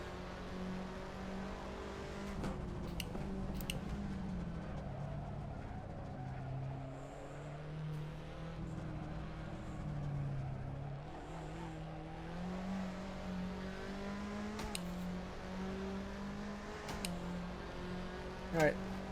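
A race car engine in a racing video game at the Lausitzring drones and shifts pitch as it downshifts and revs, with brief tire squeals, steady and mid-level under a talking voice.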